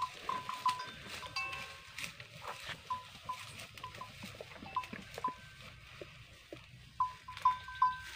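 Cattle returning to their shed when called, heard outdoors as scattered animal calls, hoof patter and clanking bells at moderate distance, with intermittent thin whistle-like tones over quiet background noise.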